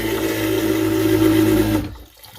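An electric toilet in a converted Bluebird school bus camper flushes with a steady, loud churning rush of water and pump noise for nearly two seconds, then cuts off abruptly into quiet.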